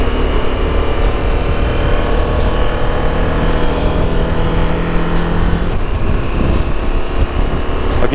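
A 2023 KTM 1290 Super Adventure engine pulls hard under acceleration, loud and close with a rising tone. A quick shift comes partway through, followed by continued strong revving.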